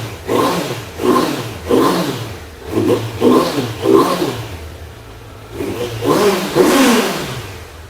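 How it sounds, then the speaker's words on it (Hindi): A 20-day-old Kawasaki ZX6R on its stock exhaust is revved in a series of about eight quick throttle blips, each rising and falling over a low idle, close and fairly loud. "बट एक बार स्टॉक एग्जॉस्ट की बात सुन लो।"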